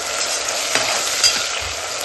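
Vegetable dum biryani being mixed in a pan: a steady, loud sizzle fills the scene, with a couple of soft scraping stir strokes and no voices.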